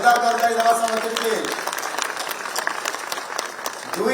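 Loud applause from an audience at a public event in Koraput district, Odisha, breaking out over a voice and settling into steady clapping for the remaining seconds.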